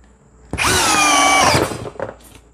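A DEKTON DK 2140MKT cordless drill drives a long screw, giving a loud steady whine for about a second that winds down, followed by a few brief clatters of handling.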